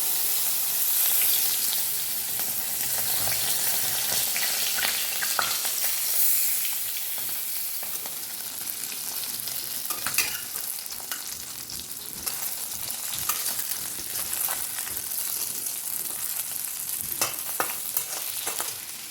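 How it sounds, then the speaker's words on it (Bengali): Fish fry crisp in a pan of hot oil, a steady bright sizzle and crackle with occasional spatters and stirring, close and continuous, with no talking. "মাছগুলোকে কড়া করে ভেজে নেব।"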